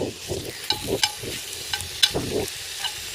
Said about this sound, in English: Alright, sizzling already.